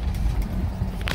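A 2008 BMW 535i engine turns over and catches, a short, close, low rumble.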